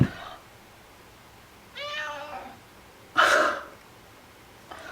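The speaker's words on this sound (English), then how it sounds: "My cat's being really mean." A cat meows twice, a short wavering call followed by a louder, sharper meow, each standing alone against a quiet room, with a faint click at the very start and end.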